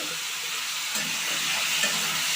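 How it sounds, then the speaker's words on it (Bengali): Flat beans and tomato sizzle in a pan of oil while khichuri is cooked, giving a steady, close hiss of frying with no voices throughout. "ধুয়ে রাখা সিম আর টমেটোটা দিয়ে দিলাম হালকা ভাজা হয়ে এসছে"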